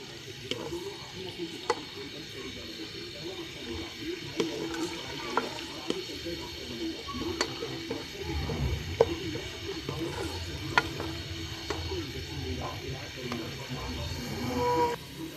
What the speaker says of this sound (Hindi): प्याज को हम लाइट ब्राउन सा करेंगे।